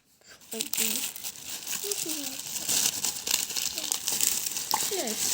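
Plastic shopping bags crinkle and rustle continuously as they are handled up close. Someone talks over the crackling.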